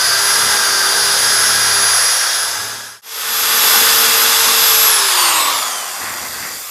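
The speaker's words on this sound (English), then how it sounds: "this is a side cutting drill bit" A power drill with a side-cutting bit elongates a hole for a mortise lock notch, whining loudly and steadily close up, briefly stopping midway then spinning up again before winding down.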